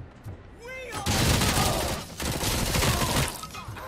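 A submachine gun fires in the video game RoboCop: Rogue City, two loud, dense bursts of rapid gunfire close up after a brief pause, with a short spoken remark at the start.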